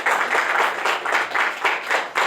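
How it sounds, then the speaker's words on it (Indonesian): Church congregation clapping for Jesus during a sermon, a dense wash of hand claps that swells in several waves over a couple of seconds, fairly close and steady with no talk over it. "Boleh nggak tepuk tangan untuk Tuhan Yesus?"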